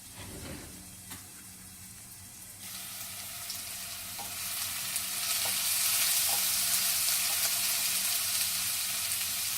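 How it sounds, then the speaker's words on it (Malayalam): Crushed ginger and garlic sizzle in hot oil with spluttered mustard seeds. The frying starts soft, then swells into a loud, steady, hissing crackle that carries on to the end with no talk. "കടുക് നന്നായിട്ട് പൊട്ടി കഴിയുമ്പോൾ ചതച്ച് വെച്ചിരിക്കുന്ന ഇഞ്ചിയും വെളുത്തുള്ളിയും ഇടണം."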